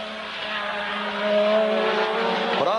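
Formula 1 race cars at the 1984 Brazilian Grand Prix, a loud sustained engine whine from a pack of cars heading toward the pit corner, pitch shifting as they pass and a downward sweep at the end.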